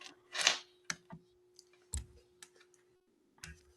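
Typing on a keyboard, scattered sharp key clicks with irregular gaps, close and fairly quiet, over a faint steady hum.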